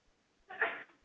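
Someone in a math classroom sneezes once, a single sudden, breathy burst lasting under half a second against near silence.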